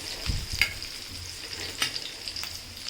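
Pomfret fish marinated in spices frying in hot oil with garlic, a close, steady sizzle punctuated by a few sharp crackles and spatters, with no talking.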